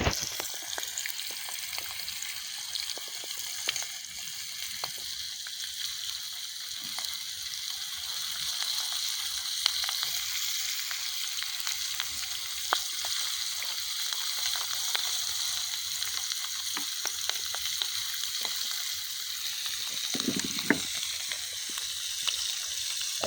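Floured corimbatá fish seasoned with lemon and salt fries in hot oil over a campfire, giving a steady, fine crackling sizzle with scattered pops throughout and a brief louder bubbling burst near the end.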